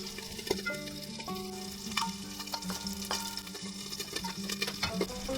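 Pork fat rendering in a pan over low-medium heat for menudo gives a soft, continuous frying crackle with scattered sharp pops throughout, fairly quiet and without talk.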